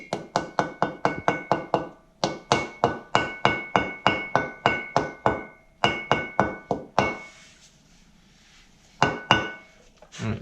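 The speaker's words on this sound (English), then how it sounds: "You're going to have to tap it back in with a hammer." Rapid, even taps of a small metal hammer seating a seal during a Ranger front wheel bearing service, in bursts, ringing slightly, with a pause near the end before a few final taps.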